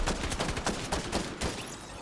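Rapid bursts of video game gunfire, a cluster of quick overlapping shots fired in fast succession, fairly quiet and distant-sounding, with no one speaking.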